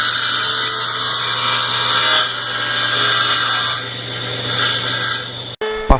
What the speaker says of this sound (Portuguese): Após a secagem, removi o excesso das laterais na serra.